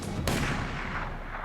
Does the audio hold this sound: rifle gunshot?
yes